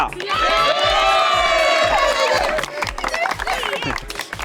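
Loud crowd of students cheering, whooping and shouting with some clapping at a college event at De Paul Institute of Science & Technology, swelling for a few seconds then thinning into scattered voices.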